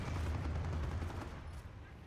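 Tank cannon fire in the Company of Heroes game, a T-34-85 and a Panzer IV trading shots, heard as a low rumbling boom that fades away, with faint battle noise beneath.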